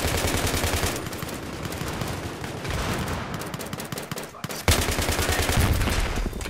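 Sustained automatic weapon fire in Battlefield 3 gameplay, loud rapid rattling bursts continuing throughout with a brief gap before another close burst.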